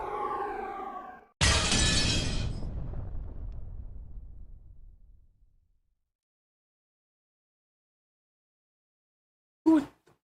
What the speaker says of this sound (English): sound like that glass window breaking reverberated through the hall